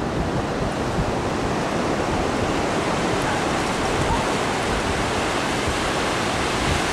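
Ocean surf rolls in at Dog Beach near Ocean Beach Pier on a quiet Tuesday afternoon, a constant broad roar of breaking waves with no pauses and no voices.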